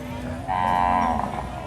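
A single loud, close cow moo rises over the murmur of a livestock market at Ban Chiang Wang in Yasothon province, Thailand.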